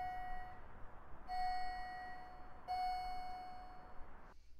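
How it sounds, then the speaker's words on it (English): A steady electronic elevator arrival chime in Roblox repeats three times, each ring sustained about a second, over a constant low mechanical hum. "Nice chime."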